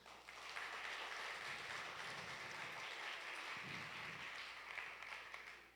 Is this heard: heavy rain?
no